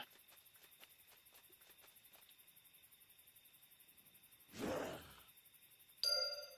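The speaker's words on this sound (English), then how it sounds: "Right, so we go ring the gong." A signal gong struck in the EverQuest II video game, a single loud metallic ring that rises out of quiet footsteps and light chimes, followed shortly by a bright tonal game chime.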